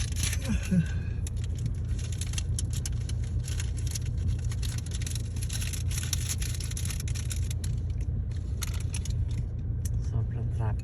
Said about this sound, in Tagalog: Sobrang natatraffic tayo ngayon.